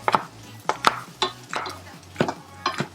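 A knife chops food on a board in a home kitchen, garlic frying nearby, giving a run of sharp, close taps in uneven rhythm, with no talk.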